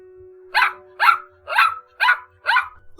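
A creature's harsh barks in a horror story, five loud evenly spaced barks close by with a guard-dog quality, alone over a faint steady hum.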